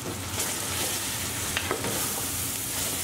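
Eggplant, grated garlic and onions sizzle steadily in a frying pan while a utensil stirs through them, a continuous close hiss with soft scraping and no talking.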